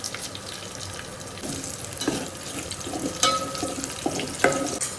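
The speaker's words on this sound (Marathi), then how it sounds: "मध्ये लसूण आणि लगेच थोडीशी राई टाकायची आहे" Garlic and mustard seeds hit hot oil in a home kitchen while a spiced vegetable curry is cooked, giving a steady close sizzle and crackle with a few sharper pops and no talking.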